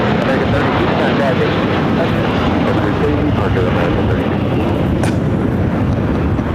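An American Airlines Airbus A321 jet at LAX roars steadily and loudly as a broadband engine rumble that fills the whole stretch without pause.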